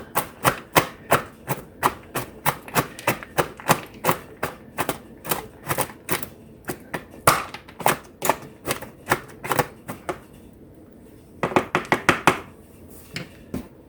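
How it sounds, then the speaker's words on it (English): Food chopper repeatedly chopping cabbage for slaw, a steady rapid series of sharp close knocks with a brief pause before a final quick burst. "And this just chops down in that cabbage really good."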